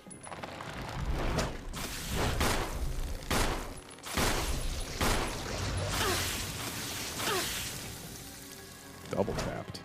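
Gunshots in a Resident Evil game aimed at a plant creature, a series of loud, irregular blasts spaced a second or so apart, with echoing tails, alongside someone talking.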